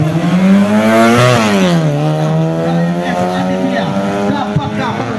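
A drag racing engine screams at maximum RPM, loud and close, its pitch climbing, dipping and climbing again through shifts at a drag race, with a commentator talking underneath.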